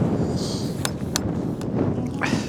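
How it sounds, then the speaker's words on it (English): Constant low roaring coastal wind on the Cornish coastline buffeting the microphone, with a few sharp gusty bursts and faint higher noises over the rumble. "I thought it was windy down there."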